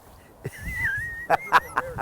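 A dog whimpers with a long high whine, followed by several short sharp yips, fairly close and alone, during a dog training session by the water.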